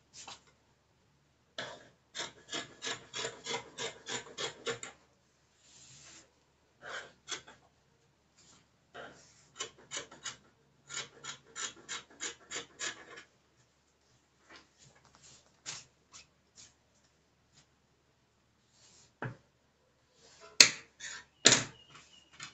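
Scissors snip through padded shoulder dart bustier fabric in a close, quiet run of rapid crisp cuts, pausing between bursts, with a few louder snips near the end and no talking.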